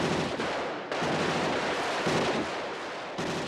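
Gunfire from the 1987 action film RoboCop: loud, dense bursts of shots and blasts that run almost without pause, with two brief breaks before the barrage resumes.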